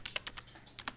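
Rapid, distinct keystrokes on a computer keyboard while Python code is entered, about half a dozen sharp clicks close up with a short gap midway, against a quiet low hum.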